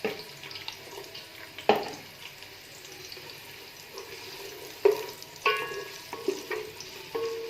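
Onion sizzles in hot oil in a pan, a soft steady crackle punctuated by several louder scraping stirs and clinks, close by.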